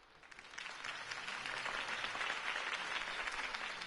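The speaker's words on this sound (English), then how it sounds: "could have heard that applause" Crowd applause in a Batman video game swells gradually and holds steady, a broad wash of many hands clapping, fairly distant and unaccompanied by speech.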